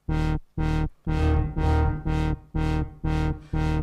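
Synthesizer notes with an added reverb effect, played on a Polyend instrument: eight loud, evenly spaced sustained tones, each with a short reverberant tail, with no talking.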